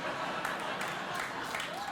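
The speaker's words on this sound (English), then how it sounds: "Do not applaud that." A studio audience at a late-night talk show applauds in a steady, dense wash of clapping, moderately loud and continuous, with no speech over it.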